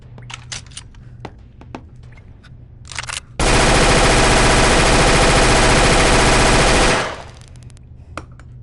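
A Heckler & Koch rifle-caliber personal defense weapon fires a loud, sustained full-auto burst lasting several seconds, set off by scattered sharp clicks before and a ringing tail after.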